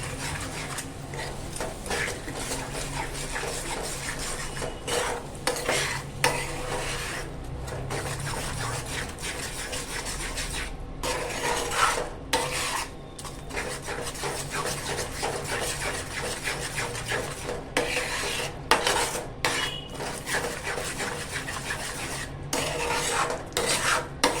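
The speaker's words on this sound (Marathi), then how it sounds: "आता आपण फोडून घेतलेली अंडी यात टाकूया आणि व्यवस्थित असं मिक्स करून घेऊया" Beaten eggs stirred and pressed in a pan for egg bhurji: a continuous rasping, scraping stir of a utensil against the pan, close and steady, with brief pauses between strokes.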